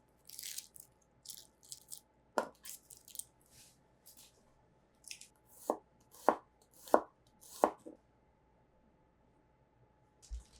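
A knife chops red onion on a cutting board in a quiet room. About a dozen crisp chops come in uneven bursts with gaps between them, close but soft.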